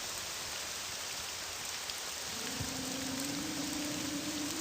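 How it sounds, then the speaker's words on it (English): Rain falling in the video game Morrowind, played through OpenMW, a steady soft hiss of rainfall, joined partway by a low droning tone. "it's raining. That's not fun."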